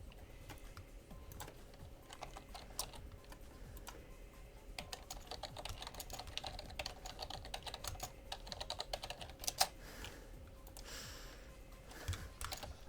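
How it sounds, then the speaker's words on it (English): Loud, rapid clatter of typing on an antique computer keyboard, with a dense, steady stream of key strikes and occasional heavier clacks throughout, close up and without any talking. "Loud typing noises ensue. Well, I can't do much since I'm working on an antique keyboard."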